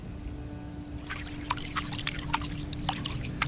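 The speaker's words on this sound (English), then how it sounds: "Suddenly, the dripping sound returned, but it was different this time. It was faster, more erratic." Water drips fast and irregularly, a scatter of sharp, close plinks at uneven intervals over a low, constant background hum, with no voices.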